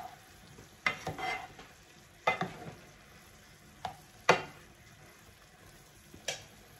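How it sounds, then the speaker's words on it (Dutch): Indian cauliflower and potato curry stirred in a pan, with several distinct scraping strokes of a spoon against the pan over a soft background sizzle, close and clear. "Dan gaan we het nog een beetje door elkaar roeren."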